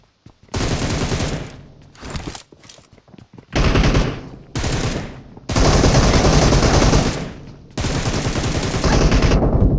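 M762 rifle in the mobile game PUBG fires in loud sustained automatic bursts, several long strings of rapid shots separated by short pauses.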